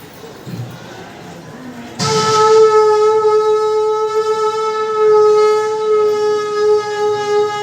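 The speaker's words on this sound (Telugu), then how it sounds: "శంఖం ఏ విధంగా ఊపుతారంటే" A conch shell is blown, as is done at weddings. After a quiet start, one loud, sustained blast with a steady, horn-like tone begins about two seconds in and holds to the end.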